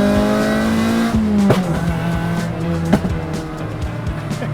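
Honda EP3 Civic Type R engine revving hard as VTEC engages, a loud, close engine note holding steady then dropping with a gear change around the middle, with brief tire noise and road rumble underneath.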